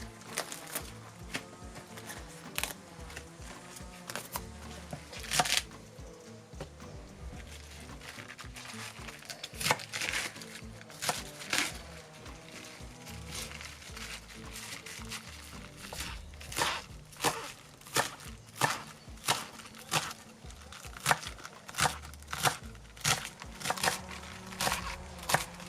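A knife slices napa cabbage greens into thin strips on a cutting board, making a steady run of quick, soft cutting taps that lasts throughout.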